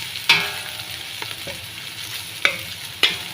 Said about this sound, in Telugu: పచ్చివాసన పోయేంత వరకు అయితే ఇలా అయితే వేయించుకోవాలన్నమాట